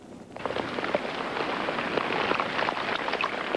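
Heavy rain falling steadily on a Portland city street at night, a dense, continuous hiss with scattered sharper drops and splashes throughout, fairly close and with no voices.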